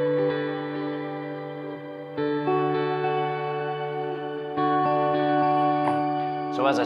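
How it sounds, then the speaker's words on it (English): Sustained clean electric guitar chords drenched in echoing digital delay and reverb, shifting every couple of seconds, smooth and ambient with no voices. "we've got that really clean digital delay keeping our guitar tone up front"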